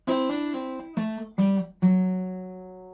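A short guitar riff of several plucked notes, each ringing briefly before the next, ending on a longer sustained note that slowly fades.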